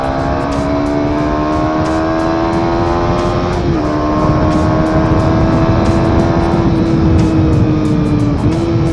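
Kawasaki KR150 motorcycle engine upgraded to 250, droning steadily at speed during a solo night ride, with a loud continuous engine hum, a couple of brief pitch dips from gear shifts, and heavy wind rush throughout.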